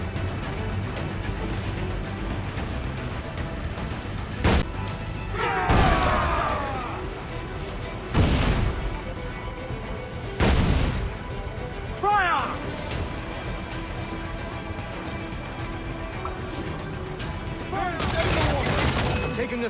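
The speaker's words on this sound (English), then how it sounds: "They are firing, sir!" Ship cannons boom in repeated broadside volleys during an Assassin's Creed IV Black Flag naval battle, loud bursts spaced every few seconds over a steady sea-and-ship din, with shouted crew voices mixed in.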